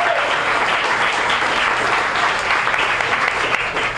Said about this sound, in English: Let's give them all a round of applause for sponsoring.